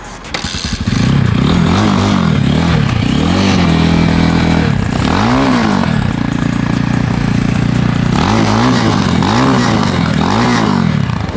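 A MotoLeader ML300 CRF motorcycle engine with a split exhaust idles steadily with a deep, bassy exhaust rumble, occasionally rising in brief revs, close and loud throughout with no talking.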